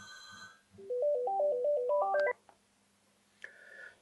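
A telephone ringtone plays a short rising electronic melody of beeping tones at a locksmith's workshop, then stops, followed by a brief single tone after a pause.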